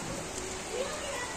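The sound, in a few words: rain falling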